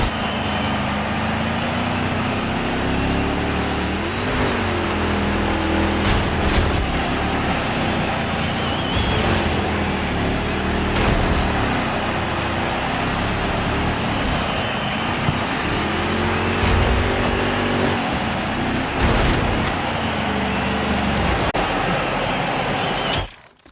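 Hearse racing in the DIRT 5 video game, a steady engine drone with shifting pitch as it accelerates and changes gear, loud and continuous with no talk.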